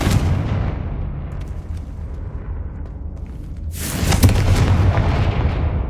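A Confringo spell blast in Hogwarts Legacy erupts as a loud, close, booming burst about four seconds in, over a steady rumbling game soundscape.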